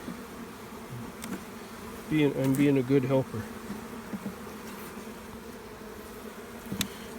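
Honey bees hum steadily around an open hive during a yard cleanup, a close, brief louder buzz swelling near the middle over a continuous background drone, with a short spoken remark.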